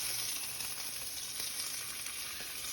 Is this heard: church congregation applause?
no